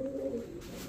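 Pigeons at a Bangladeshi pigeon market coo in a low, rolling call, close and steady, lasting about a second with no talk over it.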